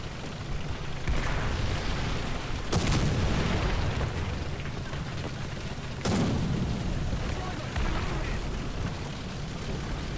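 Booming artillery strike in War Thunder on the Mozdok map, with two sharp heavy blasts standing out over a constant loud roar of battle noise.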